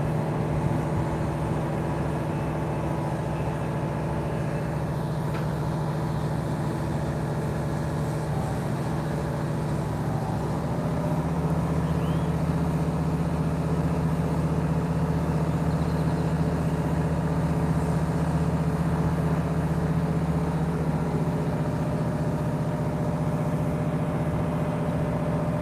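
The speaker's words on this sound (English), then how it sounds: "Yeah, they're throttling up the crane here." A crane's heavy diesel engine at SpaceX Starbase in Boca Chica, Texas, rumbling steadily and then throttling up partway through into a fuller, stronger drone, continuous and loud with no voices.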